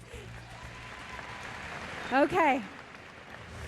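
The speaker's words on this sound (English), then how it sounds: "Let's give them a round of applause first, all right?" An audience applauds Miss World 2009 contestants at a steady, moderate level throughout, with a brief spoken word over the clapping partway through.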